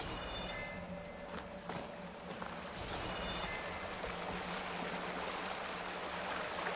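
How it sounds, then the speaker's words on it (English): Steady rushing water from a waterfall in the video game Horizon Forbidden West, a continuous broadband wash with faint footsteps and small splashes, mid-distance and even in level. "No treasure behind this waterfall either, Kieran."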